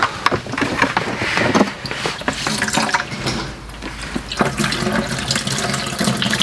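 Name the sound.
water leaking from a pressure washer hose fitting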